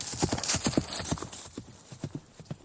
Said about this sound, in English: the newlyweds will be whisked by a horse-drawn carriage